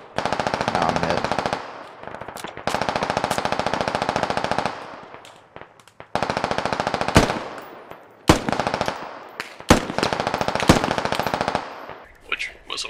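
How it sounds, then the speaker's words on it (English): Enemy gunfire in a video game: long bursts of rapid automatic shooting broken by short pauses, then scattered sharp single shots and brief volleys, loud and dominant throughout. "Hear them shoot."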